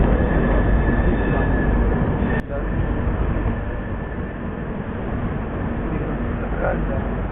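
Bihar Sampark Kranti Express train rolling into a railway station, a steady loud rumble of wheels and carriages filling the whole stretch, with a brief sharp click partway through.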